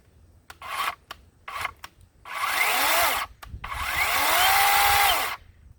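Worx cordless chainsaw cutting through wood in two bursts, each a few seconds of steady whining drive with shifting tone as the chain bites, preceded by short brief revs and taps, close and loud.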